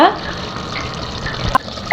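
Water is poured into soaked basmati rice for mutton biryani, a steady close splashing trickle lasting about two seconds, partly under a speaking voice.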